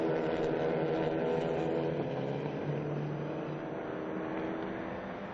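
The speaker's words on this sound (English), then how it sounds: "The cars cycle through past the old pit lane and towards turns 13" Clio Cup race cars at the Nogaro circuit, a steady distant engine drone with a faint pitch dip, heard at a low, even level.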